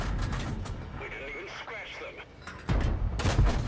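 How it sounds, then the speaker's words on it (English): Cromwell tank cannon shots in World of Tanks battle, sharp bursts near the start and a louder blast near the end, set over radio-like game chatter and rumbling background. "You can see my regular rounds do go through."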